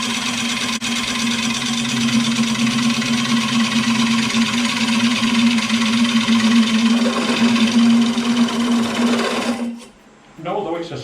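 A sharp lathe tool scrapes a wooden bowl spinning at 550 rpm, a steady loud whirring drone with a bright hum throughout, then it stops abruptly near the end, leaving quieter background sound.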